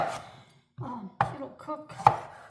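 A knife chops food on a wood cutting board, several sharp separate thunks at an uneven pace, close and clear, with quiet gaps between strikes.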